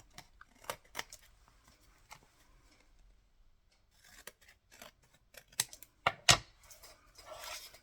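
Scissors snip through paper while trimming the sides of a page for a junk journal, a scattered series of sharp, close cuts with short pauses between them.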